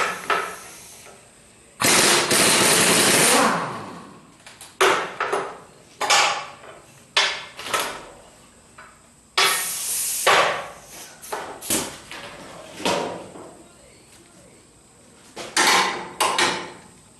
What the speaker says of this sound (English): So I'm going to get the impact wrench on 11/16.